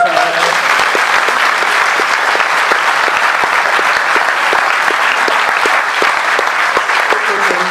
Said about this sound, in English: Oh, give them a round of applause.